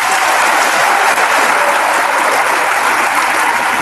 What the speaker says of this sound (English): Let's give her a round of applause, our wonderful center.